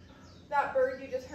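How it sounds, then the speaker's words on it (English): A bird known as a nay-nay gives a short, faint, laughing call in the open. "That bird you just heard that sounds like it's laughing, that's called a nay-nay."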